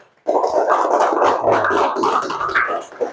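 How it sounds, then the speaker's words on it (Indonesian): A classroom group of schoolchildren claps together in a dense burst of applause lasting a few seconds, loud and near, fading slightly before ending. "Tepuk tangan."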